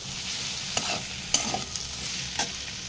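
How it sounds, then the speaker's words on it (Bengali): Tomato stirred into fried garlic in a hot pan gives a continuous close sizzle, with a few quick spoon scrapes and taps against the metal, and nobody speaks. "এবার আমি টমেটোটা দিয়ে দেবো। টমেটোটা দিয়ে আমি হালকা একটু নাড়িয়ে নেব"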